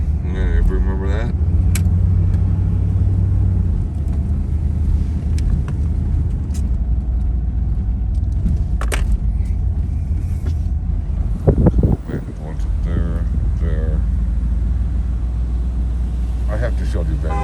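A van cruises the residential streets of Glen Park in Gary, Indiana, its steady engine and road rumble running continuously near the microphone, with a brief bump and dip around the middle and faint voices now and then.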